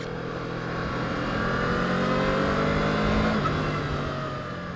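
A 2014 Honda VFR800 V4 motorcycle engine while riding, a loud, steady droning hum that climbs in pitch as it accelerates, with wind rush around it.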